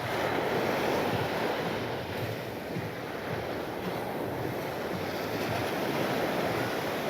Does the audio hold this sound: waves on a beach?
yes